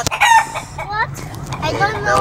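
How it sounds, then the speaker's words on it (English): Chickens cluck and a rooster crows loudly nearby from a jeepney full of chickens in Palawan, Philippines, with a bit of background chatter. "every jeepney full of chickens."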